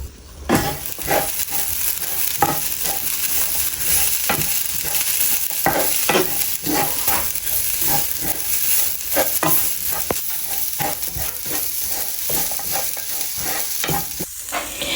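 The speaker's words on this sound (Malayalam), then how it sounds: "കറിവേപ്പിലയും കൂടി ആഡ് ചെയ്ത് നമുക്കിതൊന്ന് നല്ലപോലെ ഒന്ന് ചൂടാക്കി എടുക്കാം." Green chilli, garlic and curry leaves heat in a pan for chicken coconut chammanthi, giving a steady oily sizzle broken by regular scraping stirs of a spoon against the pan, close and continuous throughout.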